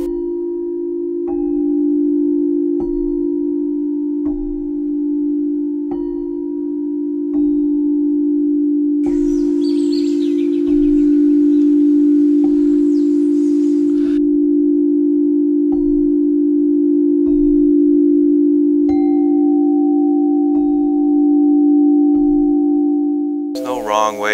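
A sustained pure chime tone rings steadily, with softer tones struck over it at intervals and a brief brighter shimmer partway through.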